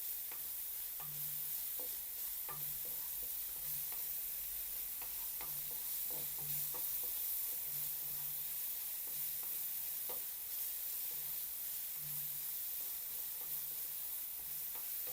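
Pork binagoongan sautés in a pan with a steady, soft sizzle, while a utensil scrapes and stirs in irregular repeated strokes throughout.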